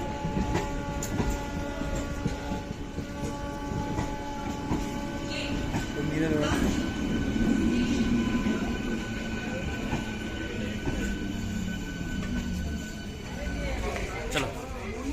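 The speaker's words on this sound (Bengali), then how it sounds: "ট্রেন এসে গেছে, তো আমরা উঠবো।" A train pulls into a station in Kolkata, its rumble swelling and fading with squealing wheels and rattling carriages, while people talk nearby.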